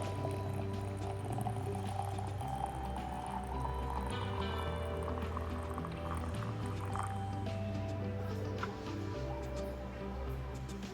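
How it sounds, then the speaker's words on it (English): Boiling water being poured from a pot into vases to steep honeysuckle tea, a steady continuous trickling stream with dripping and filling sounds throughout, close and fairly loud with no talking. "it was time to move the water over into the vases"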